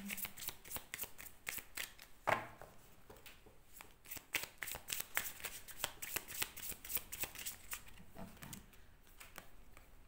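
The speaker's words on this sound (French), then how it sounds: "Encore une petite carte ou deux avec Whispers of Love pour les" Oracle cards, a Whispers of Love deck, shuffled and drawn in a steady run of quick papery riffles and flicks, close and fairly quiet, with no voices.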